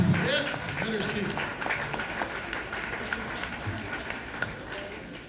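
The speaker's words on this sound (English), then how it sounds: "Ladies and gentlemen, how about a nice round of applause for Litara Alaimo." An audience at a live televised event gives a round of applause, a dense but fairly soft clapping that continues under crowd noise and voices, tapering slightly toward the end.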